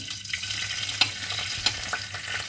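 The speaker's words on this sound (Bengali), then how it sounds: "এখানে কড়াতে আমি সরষের তেল গরম করে নিয়েছি। প্রথমে এই তেলের মধ্যে প্রথমে দিয়ে দেবো কালো সরষে" Black mustard seeds frying in hot mustard oil in a wok, a soft constant sizzle with a few light clicks and scrapes, quiet and close.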